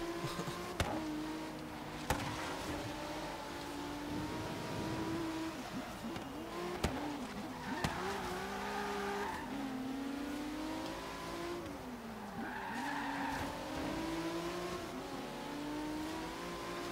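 A race car in Forza Horizon 3 revving and accelerating, its engine popping and crackling on the overrun, with occasional sharp bangs and tire noise, loud and continuous.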